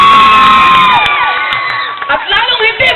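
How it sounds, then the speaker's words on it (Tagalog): A live audience at a Talentadong Pinoy performer's show cheers, whoops and shouts in a loud, continuous mass of voices, with bright overlapping yells rising and falling throughout. "Hindi po ako magsisimula hanggat walang palakpakan."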